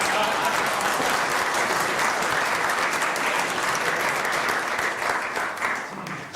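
Loud, sustained applause from a large audience, dense clapping that holds steady before tapering off slightly at the end.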